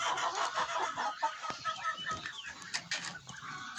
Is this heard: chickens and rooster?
yes